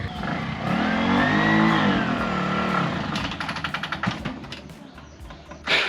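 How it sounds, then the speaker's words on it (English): A vehicle engine revs hard and high while stuck on a steep hill, the strained drone rising and falling over several seconds before breaking into rapid sputtering pulses as the clutch is ridden out. "we've actually got stuck on this hill. So CJ's gonna have to go a real high rev and just ride the clutch out"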